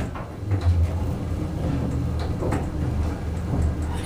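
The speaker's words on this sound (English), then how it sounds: "Door close button works." An elevator door in the Wachovia (Wells Fargo) Building in Bedford, Virginia slides shut after the door-close button is pressed, a soft, steady rumbling slide with faint clunks and no talking.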